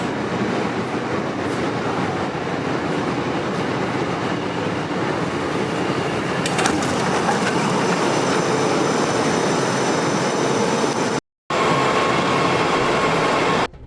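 An LA Metro subway train rolls along with a steady, loud rumble and roar, punctuated by occasional metallic squeals and rattles, and there is a brief cut near the end. Nobody speaks.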